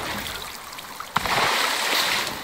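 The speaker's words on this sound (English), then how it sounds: "which means jumping in the water and extinguishing our light" A player character jumps into water in the survival video game Icarus: a sudden splash lands about midway, then a steady rushing, bubbling water wash continues to the end, with no talk.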